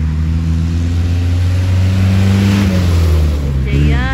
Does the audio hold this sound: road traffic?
yes